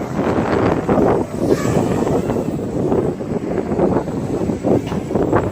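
Outdoor wind buffets the microphone in steady, rumbling gusts during the flight of a Tarot 130 brushless micro quadcopter. A faint high whine sits beneath the wind noise, and no one speaks.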